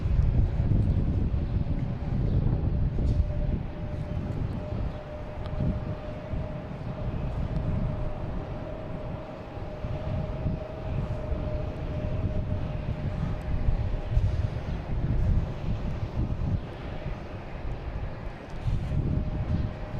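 A Beechcraft King Air taxis along a taxiway at Boston Logan airport, its steady turboprop drone and faint whine holding throughout, mixed with wind noise on the microphone.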